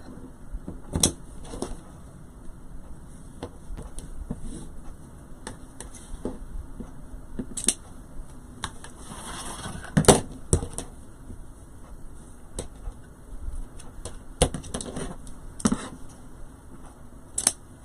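Wreath materials being cut to twelve-inch lengths make scattered sharp snips and clicks, some close and crisp, separated by quiet gaps and light handling rustle.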